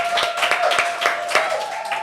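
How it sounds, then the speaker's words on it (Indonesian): A small group claps for Ciko Coffee inside the café during a talk-show taping, a few seconds of sparse, distinct hand claps, close and moderately loud, with a steady tone humming underneath. "Tepuk tangan dulu dong untuk Ciko Coffee."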